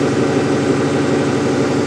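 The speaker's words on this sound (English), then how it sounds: "It's actually idling pretty low, but you see it's not idling down." A car engine idles steadily with a low, even rumble and no change in pitch, close up and continuous.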